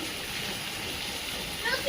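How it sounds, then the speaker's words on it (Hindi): Steady broadband hiss of rain falling around a house, continuous and fairly close throughout, with a few brief brighter patters near the end. "देखो बारिश आने लगी है हमारे घर पे"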